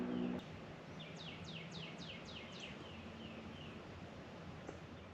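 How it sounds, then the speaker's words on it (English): Birds chirp in the morning at a gloomy, overcast truck campsite: a run of quick descending chirps repeats near the start, then sparser calls continue over a steady outdoor hush. "You can hear the birds chirping."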